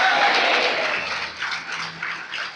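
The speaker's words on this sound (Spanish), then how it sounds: "Denle un aplauso fuerte" Church audience applause, a burst of clapping that starts strong and gradually thins out, moderately loud with scattered individual claps near the end.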